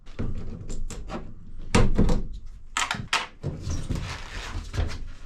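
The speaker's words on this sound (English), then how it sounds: "popping out these factory snaps" Factory plastic snaps pop out of the lower door panels of a Ram Promaster campervan: a series of sharp, close clicks and thunks at irregular intervals, with rustling handling noise between them.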